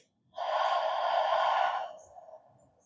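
A slow, deliberate breath pushed out through the mouth during a yoga flow, a steady broad whoosh lasting about a second and a half that tapers off softly, close and alone.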